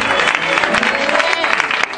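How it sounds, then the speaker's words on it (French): Church congregation applauding a pastor at a French-language service, a dense, steady wash of clapping from many hands filling the room, with some crowd voices mixed in. "Que le Seigneur nous bénisse de ce que nous avons applaudi le pasteur Kwasi."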